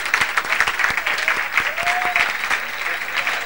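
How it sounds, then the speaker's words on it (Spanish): Loud, dense applause fills a hall as special education teachers are welcomed at an education event, sustained crowd clapping throughout with a brief whistle-like tone in the middle. "todos los vamos a recibir con un fuerte aplauso"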